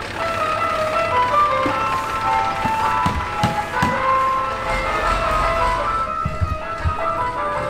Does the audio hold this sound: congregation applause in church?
no